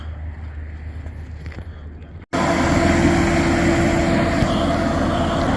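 A Nissan Pathfinder engine hums steadily during a transmission test, then after a brief cut a louder, broadband engine roar continues evenly with a faint whine on top.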